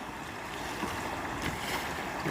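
Fast-flowing river water rushes around kayaks, a continuous close wash of splashing and turbulence with some wind noise, steady in level throughout, with no talking.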